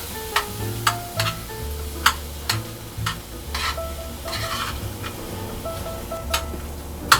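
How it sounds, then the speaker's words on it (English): Frozen, defrosted riced cauliflower being stirred in a hot pan: repeated scraping strokes of a utensil over a soft sizzle, irregular in rhythm and close. "Start stirring"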